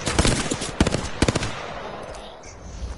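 Video game gunfire comes as several quick, punchy bursts of close shots early on, then fades to quieter background game sound.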